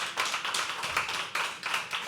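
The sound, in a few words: audience applause at poetry open mic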